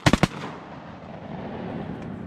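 Three rapid shotgun blasts ring out at close range during a rainy-day duck hunt, followed by a long, fading echo and a soft rush of rain and outdoor ambience.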